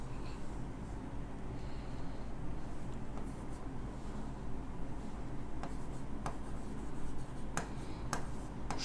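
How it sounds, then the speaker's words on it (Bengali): Handwriting during a Bengali grammar lesson, a pen or pencil scratching and rubbing on paper in a steady soft stream, close and fairly quiet, with a few faint taps and no speech. "আমি লিখে দিচ্ছি, আপনি একটু লিখে নেন।"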